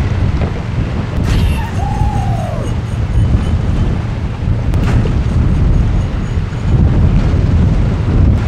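Strong coastal wind buffets the microphone while fishing on Chujado island, a loud, continuous broadband roar with shifting gusts throughout and no pauses.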